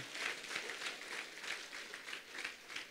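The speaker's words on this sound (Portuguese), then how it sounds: "Pode aplaudir a Ele, pode aplaudir." A church congregation applauds during a worship service, a steady, moderately faint patter of many hands clapping throughout, swelling in soft rhythmic waves with no talking.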